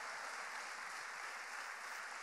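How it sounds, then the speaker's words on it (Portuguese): A church congregation claps together in sustained, even applause, distant and fairly quiet, with no speech over it. "Eu quero que você aplaude o Senhor."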